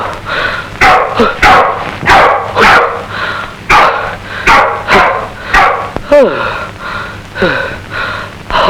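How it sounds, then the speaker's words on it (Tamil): A dog barks repeatedly outside in sharp, loud bursts at an uneven rhythm, with yips and gasping sounds between the barks. "வெளியே நாய்"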